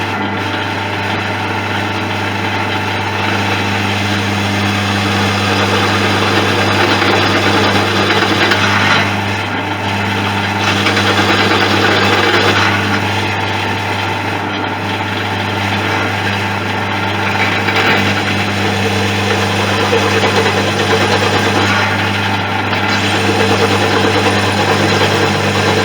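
Power drill running at low speed with a rose countersink bit, countersinking two clamped pieces for a fuselage and engine mount build: a loud, steady whirring hum throughout, with slight swells in load and no talking.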